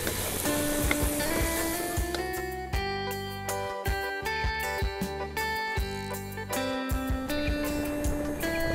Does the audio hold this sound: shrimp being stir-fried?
yes